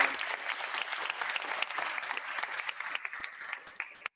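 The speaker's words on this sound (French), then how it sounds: "On peut applaudir les intervenants." Audience applauding speakers at the close of a cooperative-platforms workshop session, a steady sustained wash of many hands clapping at moderate distance for about four seconds before cutting off abruptly.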